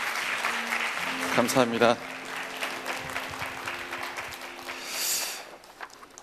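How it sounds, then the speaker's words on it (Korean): Church congregation applauding during a youth worship service, a steady broadband clatter of clapping lasting throughout, with a voice speaking briefly over it near the start. "네, 다시 한번 뜨거운 박수로"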